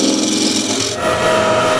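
Close, continuous rasping scrape of a shallow gouge cutting wood on a cross-grain box, loud and dense with a brief dip midway.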